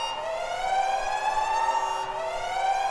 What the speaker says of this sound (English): Why is the siren blaring?